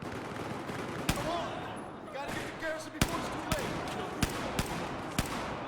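Suppressing gunfire in Battlefield 4 with the QBZ or MK11 sounds as a series of sharp, spaced single shots punctuating a low battlefield din, several crisp cracks in steady succession while a voice talks over the action.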